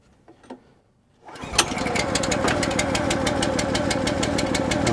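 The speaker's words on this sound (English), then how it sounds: "So we'll turn that on, give it a choke, and we'll go like a little bit more than, or about a third throttle." A Wolfe Ridge 28 Pro log splitter's gas engine, choke on, catches after a few quiet clicks and settles into a loud, steady, close chugging run.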